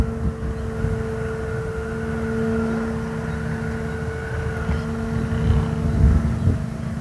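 High up in strong wind, a kite's D90 thunder gong wrapped in thread gives off a steady, droning hum with sustained tones, heard over continuous wind rush.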